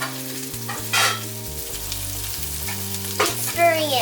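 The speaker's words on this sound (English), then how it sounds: "Keep stirring it round and round." Food fries in butter in a pan while being stirred, a loud steady sizzle with scraping stirring strokes close by under a sustained tonal hum, no talking.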